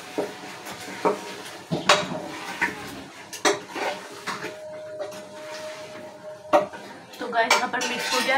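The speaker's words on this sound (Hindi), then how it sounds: "हम इसको अच्छे से मिक्स कर देंगे।" Nihari masala being mixed with salt in a pot: close, irregular clanks and scrapes of a spoon against metal, with brief pauses between strokes and a faint hum.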